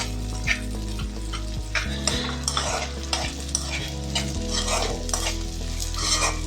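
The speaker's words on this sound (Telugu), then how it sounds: "బఠానీ వేసి కాసేపు వేపిన తర్వాత" Green peas fry in oil for an aloo brinjal peas gravy curry, giving a steady sizzle while a spoon stirs and scrapes the pan in repeated strokes over soft background music.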